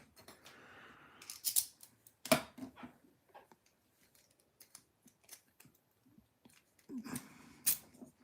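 Lock picks work a lock, giving sparse, quiet metallic clicks and scrapes separated by silences, with a louder cluster of ticks near the end.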